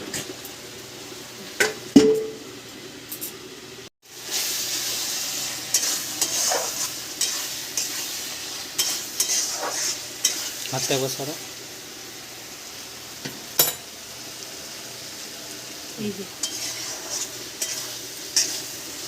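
Chicken curry sautéed in a pan, a constant close sizzle with stirring scrapes and the clink of a utensil against the pan, a brief pause near the start, and a person speaking now and then.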